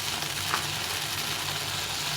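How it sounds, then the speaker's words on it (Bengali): Okra fries in a pan with salt, turmeric, chilli and black cumin, giving a steady, moderately loud broadband sizzle that runs continuously without any talk. "ঢেঁড়সটাকে একটু ভালো করে ভেজে নিতে হবে"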